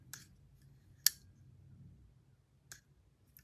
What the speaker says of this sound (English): You hear that click?